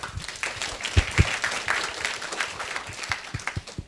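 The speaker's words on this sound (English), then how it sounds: "Let's give them all a big round of applause." Applause from an audience, a dense patter of many hands clapping with a few sharper individual claps standing out, steady over a few seconds.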